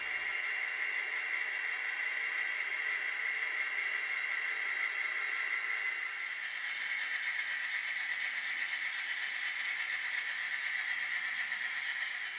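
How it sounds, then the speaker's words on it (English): A steady, faint hissing whir drones on without change, the dynamic brake fan sound effect of an N scale Atlas SD60E model locomotive, running quietly as if at a distance. "F4 turns on the dynamic brake sound."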